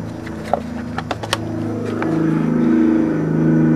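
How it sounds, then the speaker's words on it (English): A Perkins four-cylinder diesel in an all-terrain forklift does a warm start: a few sharp clicks, brief cranking, then the engine catches and rumbles louder into a steady idle, close by. "this one is the four-cylinder Perkins in the all-terrain fork"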